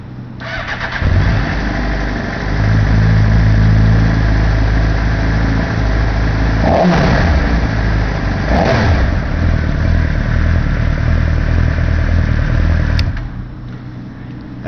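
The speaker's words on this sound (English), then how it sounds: "As you can see, the bike starts and runs great." A red Suzuki GSXR600 sport motorcycle cranks and fires up, settles into a loud close idle, then gets two sharp throttle blips before running on and shutting off.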